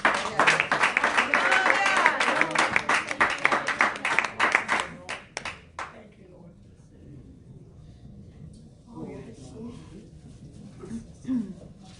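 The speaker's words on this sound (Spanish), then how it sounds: "Denle un aplauso a su Rey" Church congregation clapping for their King during a sermon, a loud burst of many hands that fades out after about five seconds, followed by quiet room tone and faint murmurs.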